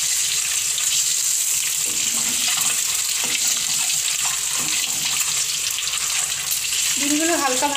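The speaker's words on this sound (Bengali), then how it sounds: "ডিমগুলো হালকা ভাজা হয়ে গেছে, আমি এবার এগুলো তুলে নিচ্ছি।" Eggs frying in hot oil in a pan for an egg masala curry, a steady loud sizzle and crackle with no talk over it.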